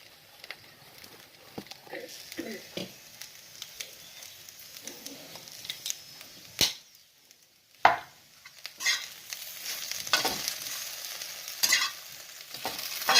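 Spice paste being stirred into okra in a pan gives scraping stirs and a soft sizzle that come and go, with a short lull partway before stirring resumes more loudly.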